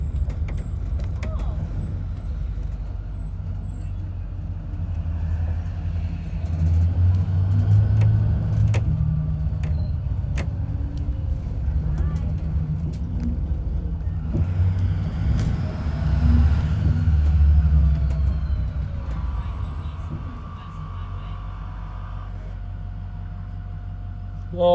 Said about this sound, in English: Cars going by.